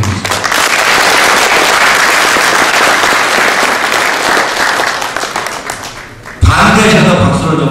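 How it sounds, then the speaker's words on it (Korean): The audience at the Songpa district chamber of commerce's annual general meeting and year-end evening breaks into loud, sustained applause that fills the hall, thins out, and then gives way to a speaker's voice. "박수를 좀 부탁드립니다."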